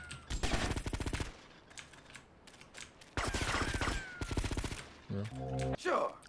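SMG gunfire in GTA Vice City crackles in rapid automatic bursts, two long volleys with short pauses between them and a few scattered shots after, fairly close and sharp.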